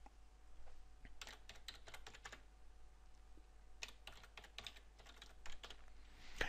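A computer keyboard typed on in quick clustered bursts of close, crisp key clicks, with a short pause in the middle, entering a username and password into a website administrator login, over a faint steady hum.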